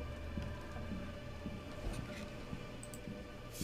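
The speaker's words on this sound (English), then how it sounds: "Yeah, we just heard the storm roll in. Thunder in a rainstorm." Steady rain hisses throughout a stormy scene in the video game Twelve Minutes, with a faint low rumble of thunder folded into the dense, even wash of water.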